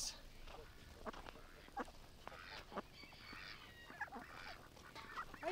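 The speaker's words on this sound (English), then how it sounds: "Hi, sleepy ducks." Ducks on a farm during morning chores, with scattered quacks and honks near and far over soft outdoor ambience, and a person talking quietly in between.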